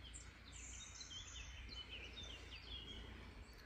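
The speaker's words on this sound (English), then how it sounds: "Just looking up at the trees and listening to the frogs and the bumblebees and the birds." Birds sing faintly in bluebell woods, with thin chirps and high warbles over a steady low rumble of outdoor background noise and no talking.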